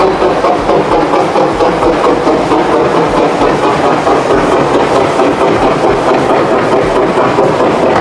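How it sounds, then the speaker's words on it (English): A steam train rumbles steadily nearby in Tunbridge Wells, its heavy engine droning with a rhythmic clickety-clack running through the whole stretch. "I can hear a steam train."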